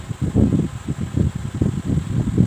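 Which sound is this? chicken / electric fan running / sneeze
electric fan running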